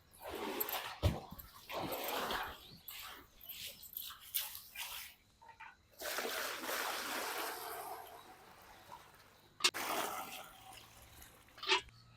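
Water running into a vessel to wash greens in a village kitchen, a close splashing pour in several bursts separated by pauses, with a sharp clank or two between them.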